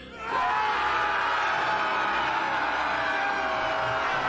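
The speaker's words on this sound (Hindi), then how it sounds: "दानव सेना हर्ष से चीत्कार कर उठी।" A demon army's crowd erupts in joyful cheering and whooping as an audiobook sound effect, swelling in quickly and then holding as a loud, dense, sustained roar of many voices.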